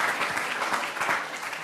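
A science-teacher award ceremony crowd in a hall breaks into applause, a continuous wash of many clapping hands at moderate loudness, lasting under two seconds with no voices on top.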